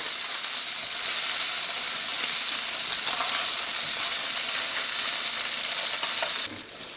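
Fish frying in a pan hisses with a loud, steady sizzle close by, unbroken for several seconds before dropping off sharply near the end.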